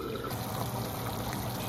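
Hot water poured into a braising pot of Taiwanese braised pork with fried shallots, a steady, close, continuous splashing pour with no talk.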